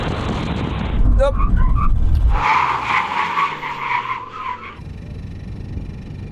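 Tires skid under hard braking in a Gran Turismo car, a loud tonal squeal rising then holding for a couple of seconds before cutting off, over engine roar and with a voice talking around it.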